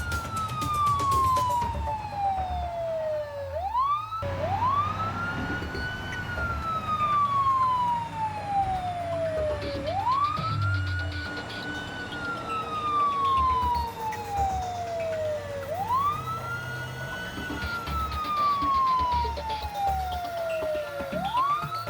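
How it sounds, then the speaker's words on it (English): Wailing emergency vehicle sirens in the driving game BeamNG Drive after a multi-car pileup, sweeping up and down in long repeating cycles, loud and steady over low traffic and engine rumble. "Ambulances rushed to the scene."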